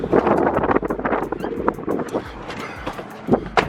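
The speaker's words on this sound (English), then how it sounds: "I know it's windy" Gusty outdoor wind buffets the microphone in steady low rumbling bursts, loud and close, with no other clear sound standing out.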